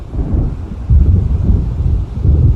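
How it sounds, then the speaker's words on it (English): An approaching storm in the Alan Wake video game: a deep, loud, continuous low rumble of thunder and wind that swells in heavy surges, with no voices. "It seems there's a storm coming."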